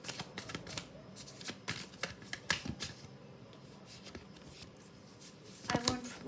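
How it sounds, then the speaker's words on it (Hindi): Tarot cards shuffled and drawn by hand during a reading, a run of dry, papery riffles and flicks in irregular bursts, close and fairly quiet, with a louder flurry near the end and soft voices at times. "let me pull some tarot cards as well regarding this thing"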